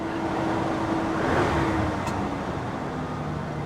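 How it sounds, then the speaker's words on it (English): A car engine with a misfire runs steadily at idle with the air conditioning switched on, a continuous rough, even drone held close throughout. "She is misfiring."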